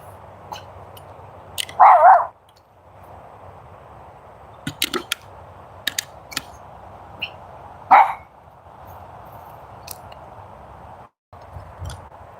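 A dog barks twice, loud and close, seconds apart, with scattered clicks and a steady outdoor hum between the barks.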